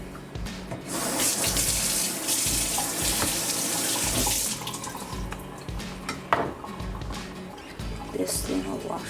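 Water runs steadily from a tap or hose while a squid catch is washed aboard a boat at night off Singapore, a loud continuous splashing rush with some clatter near the end.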